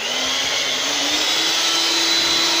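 Electric mixer whipping an ice cream mixture, a loud steady high-pitched motor whine held throughout, close by and uninterrupted, then cutting off abruptly at the end.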